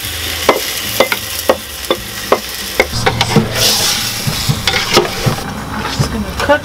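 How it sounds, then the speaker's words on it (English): Pork sizzles and is stirred in a hot pan with ginger and garlic, a steady frying hiss broken by regular scraping and tapping strokes of the utensil, close and fairly loud. "I've been stir frying it for about 5 minutes"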